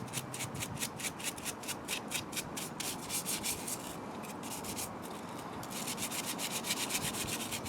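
A brush scrubs rapidly back and forth over a surface of paint being stripped with Dettol, working into nooks and cracks, giving a steady rhythmic rasping close by with no talk.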